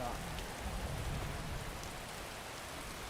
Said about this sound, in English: At least it's raining now.